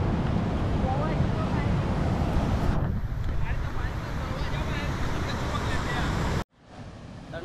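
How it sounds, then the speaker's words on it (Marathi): Kharpadi waterfall pours in a constant broadband roar, loud and close with wind buffeting the microphone, then cuts off abruptly near the end, leaving a quieter rush. "हा आहे खरपडीचा धबधबा."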